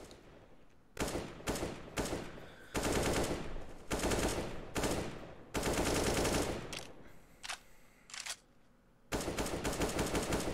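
Sustained automatic rifle spam in a Counter-Strike match on the map Cache, heard as loud, dense bursts of rapid gunfire separated by short pauses and a few isolated shots, close and dominant with no speech.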